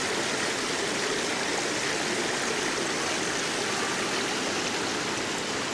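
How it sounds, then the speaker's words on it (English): Natural springs bubbling out of a rock wall along a ridge line in Israel, a steady, close rush of flowing water with continuous splashing and trickling and no voices. "And there's the springs just bubbling up."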